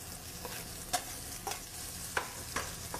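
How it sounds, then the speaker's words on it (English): Onions hit hot olive oil in a pan, giving a low steady sizzle with a few sharp stirring clicks and spatula scrapes spaced through it, fairly quiet and close, no voices. "We're going to go now into the hot olive oil."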